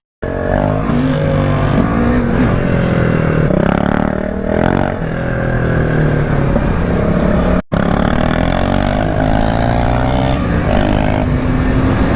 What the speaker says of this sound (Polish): Zwei Motorradfahrer im polnischen Breslau feiern den ersten ungewöhnlich warmen Februartag und genießen tolles Fahrwetter.